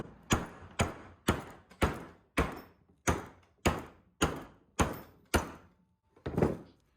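About ten sharp metallic hammer blows driving out a ball joint during a Ram bushing replacement, struck at a steady, deliberate pace, each a loud close impact with a short ringing decay, no talking.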